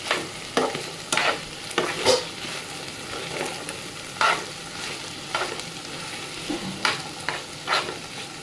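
Cooked raw-banana vegetable being stirred with freshly grated wet coconut in a pan, a steady run of scraping, clacking spoon strokes at an irregular rhythm over a soft background sizzle, close and fairly loud, no voices.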